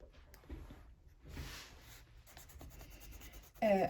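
A dark indigo Luminance coloured pencil scratches across paper in short, soft, irregular bursts, close and quiet, with no talking.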